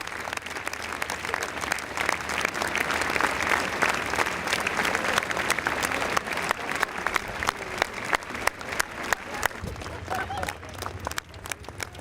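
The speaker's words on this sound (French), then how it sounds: "une foule compacte applaudit au passage du cortège" A dense street crowd in Montpellier claps as a citizens' protest march passes by, with steady outdoor applause carrying throughout and a voice talking over it.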